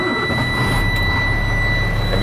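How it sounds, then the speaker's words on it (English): A truck's engine runs right after starting in the cab, a loud steady low rumble with a constant high whine layered over it, close and continuous. "Turn on my engine."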